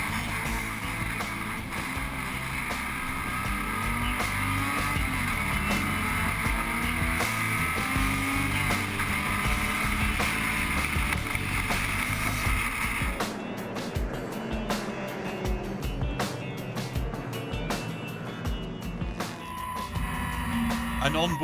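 Onboard a 1962 C-Type Jaguar race car during a classic race at Le Mans, a steady loud engine drone with wind roar holds throughout, and the tone changes partway through as the engine note shifts.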